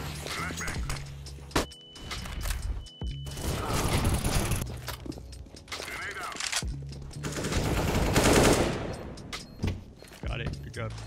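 Bursts of AK rifle fire in CS:GO ring out in rapid volleys, separated by brief pauses, loud and close, while players talk over the shooting.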